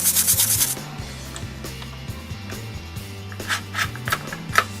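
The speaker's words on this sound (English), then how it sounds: "So we just scrub the sole." Close, dry scrubbing of a Vans sneaker's rubber sole with a soapy brush, quick rubbing strokes in a steady rhythm after a short louder burst at the start, with faint squeaks and no voices.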